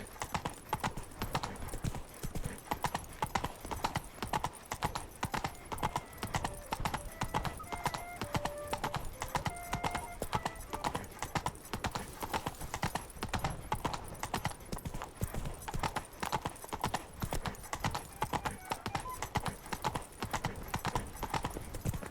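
Roach the horse trots in The Witcher 3, a steady rapid clip-clop of hooves repeating throughout, close and loud, with faint tonal game sounds in the background.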